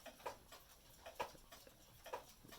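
Several wall clocks, including a Japanese schoolhouse wall clock, tick in the background with soft, regular clicks about once a second, faint and alone without talk.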